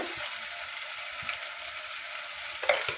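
Tomatoes sautéing in a pan with curry leaves and turmeric for cauliflower kurma, a soft steady sizzle close by with a few faint clicks and scrapes of stirring near the end.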